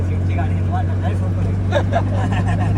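A steady, droning engine hum from an auto rickshaw in motion on the streets of Chhatrapati Sambhajinagar, running continuously beneath faint background voices.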